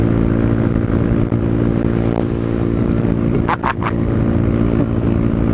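A Honda CB125R, a 125cc motorcycle, revs hard under acceleration while overtaking, its exhaust note loud and continuous up close, with wind rush and a brief dip midway.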